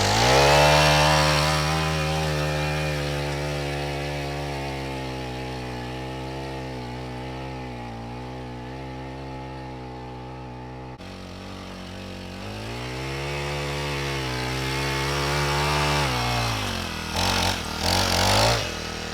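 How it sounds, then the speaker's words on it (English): A small gas tiller runs for a long stretch while working fertilizer into sweet corn rows, its steady engine drone loud and near, dipping and rising in pitch as the load changes. "So I'm going to till this in and get started on the other one."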